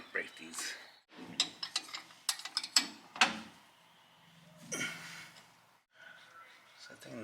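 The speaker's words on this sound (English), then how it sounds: "Get our 12mm 12-point wrench and go ahead and break these." Mechanic's 12mm 12-point wrench ratcheting and clicking against driveshaft bolts on a Ford Lightning, a string of sharp metallic clicks and taps in bursts, near, with a grunt of effort between.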